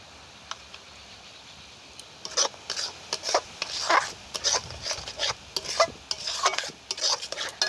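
Mango pulp mixture being stirred in a pan for homemade aamsotto: quiet at first, then repeated close scraping and sloshing strokes in an irregular rhythm, with faint sizzle and no talk.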